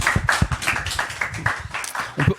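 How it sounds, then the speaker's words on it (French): A small audience claps for guests at the close of a French podcast recording, with distinct, irregular individual hand claps close to the microphone rather than a full crowd. "Et on peut les applaudir."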